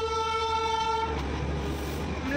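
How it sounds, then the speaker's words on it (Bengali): A Darjeeling toy train toots a clear, sustained horn for about a second over a steady low engine rumble, then the rumble carries on alone at moderate distance. "দুটো টয় ট্রেন পরপর যাচ্ছে, বেশ ভালোই লাগছে দেখতে।"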